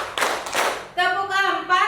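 A primary school class claps together during a rhythm counting game in the classroom, two bursts of group clapping followed by a child's sung or chanted voice, close and fairly loud.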